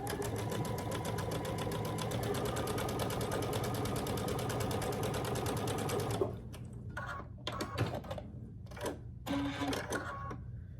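Sewing machine stitching down a piece of a quilt block, running loud and steady for about six seconds, then stopping into quieter handling noises with a few short bursts of stitching.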